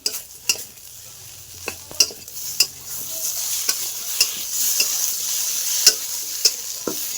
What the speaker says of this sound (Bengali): এবার ভালো করে কষিয়ে নিতে হবে।